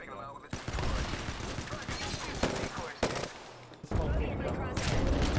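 Rapid automatic gunfire from the video game Apex Legends, loud sustained bursts broken by brief pauses, with sharp individual shots standing out, heard alone without talk.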